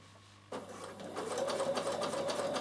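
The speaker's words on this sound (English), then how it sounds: "you just bring it down and top stitch it" Bernina sewing machine with a walking foot top stitching laminated cotton for a beach bag, a steady close whirring stitch that starts abruptly after a brief quiet moment and runs continuously, slightly building in speed.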